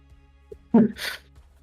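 A single close sneeze: a sharp voiced burst followed by a hissing exhale, brief and alone against near silence.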